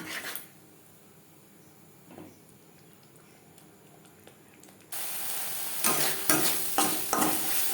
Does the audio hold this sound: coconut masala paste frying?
yes